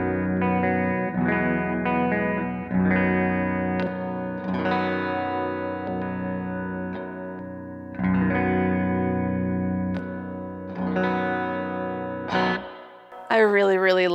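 Baritone Telecaster electric guitar played through both pickups together, with sustained chords and ringing notes across the whole stretch, and a brief burst of talk at the very end.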